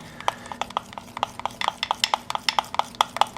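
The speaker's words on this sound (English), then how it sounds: "It's going to be smooth and I make sure to stir it." Melted chocolate and peanut butter get stirred briskly, a fast run of regular tapping clicks as the utensil strikes the bowl, close and steady with a faint hum behind.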